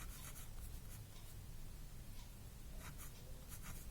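A pen or pencil scratches across paper while working out a trigonometry solution, in soft intermittent strokes with short pauses, quiet and close.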